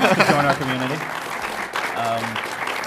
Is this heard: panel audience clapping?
yes